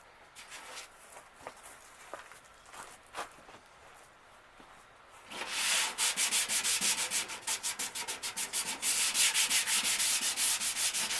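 Light tapping and shuffling give way to vigorous hand sanding with a folded 220-grit sanding disc, a loud rhythmic scratchy rubbing with quick back-and-forth strokes close by.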